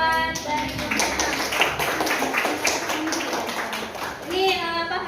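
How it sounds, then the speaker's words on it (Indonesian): Students in a school classroom clap together in a lively, steady burst of handclaps, with children's voices talking and calling over the clapping throughout. "Coba tepuk tangan dulu"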